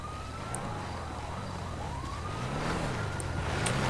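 A police siren in the video game GTA 5 wails faintly in the distance, rising and falling, over a steady low engine hum.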